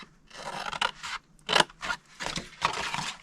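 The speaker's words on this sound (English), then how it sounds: "go to the next 2 score lines and cut them to the second score line." Scissors cut through paper card along score lines for a double-flap treat box, heard as a close run of snipping and scraping strokes in uneven bursts, with no talking.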